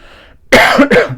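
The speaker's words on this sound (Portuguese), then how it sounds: "tossinha, só para manter a tradição" A single loud, close cough in two harsh bursts, following a brief moment of faint murmur.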